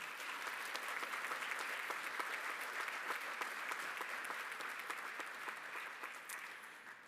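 Steady applause from a crowd at a community college commencement, fairly distant and soft, sustained for several seconds before easing slightly at the end.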